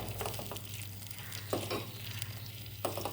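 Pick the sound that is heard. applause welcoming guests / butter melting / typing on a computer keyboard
butter melting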